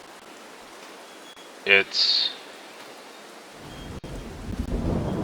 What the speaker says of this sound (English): hoping this rain stops and doesn't rain enough to shut us down